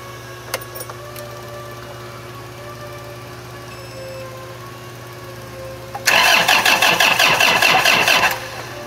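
A forklift's diesel engine, a model S30D with a weak battery and a faulty coolant temperature sensor, cranks after a stretch of quiet hum. About two seconds of labored, rhythmic turning over sounds close by, and the engine does not clearly catch.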